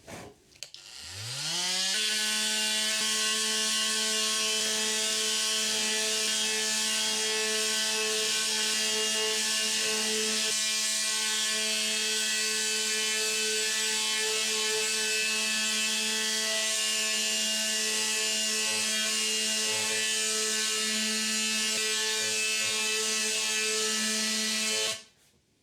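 An inexpensive AliExpress oscillating multi-tool with a sanding pad spins up and sands continuously with a loud, steady buzzing drone, then winds down at the end.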